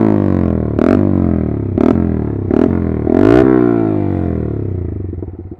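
A Yamaha R15M motorcycle with an SC Project full-system exhaust idles loud and close, blipped four times in quick throttle rises that fall back to a rumbling idle, the last dying away unevenly.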